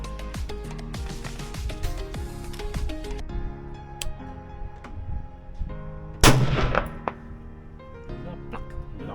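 Gunfire in a shooting video game: a run of sharp shots and thuds over in-game sounds, with a loud burst of blasts near the end, close and fairly loud.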